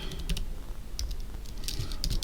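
Computer keyboard typing while code is entered, a quick run of close, crisp key clicks in an irregular rhythm with no voice over it.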